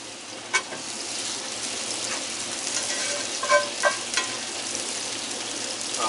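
Onions sizzling on a griddle alongside bacon burger sliders, a dense steady hiss with a few spatula taps and scrapes, close and fairly loud, and nobody speaking.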